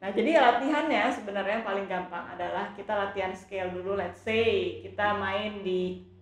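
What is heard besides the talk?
No everyday noise stands out behind the speech.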